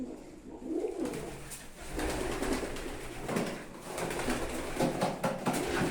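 Pigeons cooing and calling at a rooftop pigeon loft at night, a steady close murmur of soft coos with scattered wing and body rustles throughout, no talking.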